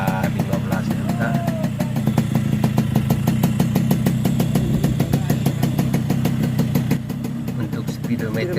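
A Yamaha RX-King motorcycle engine, recently fitted with a new block and cylinder head, idles steadily nearby, with an even, rapid putter and a low rumble underneath.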